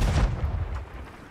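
A cannon booms in a pirate sailing video game, one deep low blast at the start, its rumble fading out over about a second, no talking.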